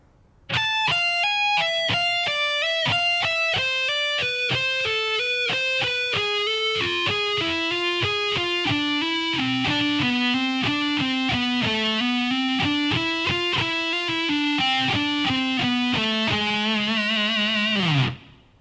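Distorted electric guitar plays a fast-fingered shred lick at a slow tempo, a steady unbroken run of picked notes that climbs and falls, loud and close, ending with a brief sustained note.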